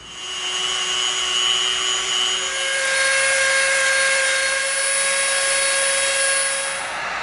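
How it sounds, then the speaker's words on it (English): A Dremel rotary tool rounds off the edges of EVA foam: a loud, steady high-pitched whine close by, holding its pitch for the full stretch before easing off at the end. "get your Dremel ready. We're going to round off the edges."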